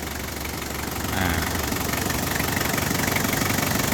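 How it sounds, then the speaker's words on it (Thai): A 2000 Toyota Hilux Tiger 4x4's 3.0-litre 5L diesel engine idles steadily, with a low rumbling knock and vibration that hold constant throughout, close by and fairly loud. "เดี๋ยวเรามาฟังเสียงเครื่องยนต์กันครับ"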